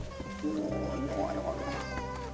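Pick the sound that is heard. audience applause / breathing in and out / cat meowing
cat meowing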